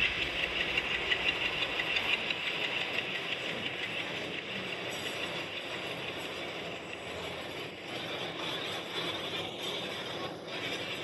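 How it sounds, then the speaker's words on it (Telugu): Diesel train engine rumbling close by at a station platform, a steady loud drone with knocking pulses and broadband roar that stays fairly constant and eases slightly toward the end, with no talk. "ఇది ఏదైతే ఇప్పుడు డీజిల్ది ఒక ట్రైన్ వచ్చింది కదా"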